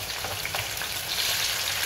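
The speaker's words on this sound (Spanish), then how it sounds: "lo vamos a sofreír en el aceite" Diced onion, green chile and tomato sauté in oil with a brief, close, continuous crackling sizzle, no voices.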